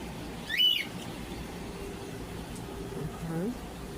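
Pet birds in the bird section of a pet store give a few brief, faint chirps against a steady hum of fans and air handling.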